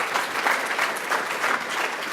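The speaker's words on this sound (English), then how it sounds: "Round of applause" Audience applause at a tech conference talk, a dense, steady wash of clapping from a crowd, loud and sustained without speech.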